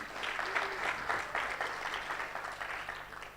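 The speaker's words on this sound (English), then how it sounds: "let's do another round of applause for the MC" An audience at a live event applauds the MC, a steady round of clapping from a crowd that stays even for a few seconds before thinning slightly, heard at a moderate distance.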